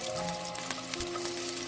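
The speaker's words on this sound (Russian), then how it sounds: "Обжариваю примерно 5 минут" Pumpkin cubes fry in a pan with vegetable oil and 15 grams of butter, giving a steady, close sizzle with scattered crackles and no voices.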